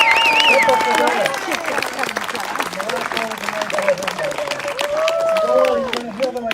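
An audience claps for the band at a Memorial Day dedication ceremony, steady dense applause with crowd murmur and a few scattered cheers, fading slightly toward the end.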